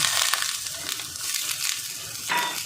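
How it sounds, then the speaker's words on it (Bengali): Potatoes sautéing in a pan with capsicum and onion petals give off a loud, close hiss of frying, with scraping stir strokes breaking through at intervals and no talk. "আলুটা কষানো হচ্ছে।"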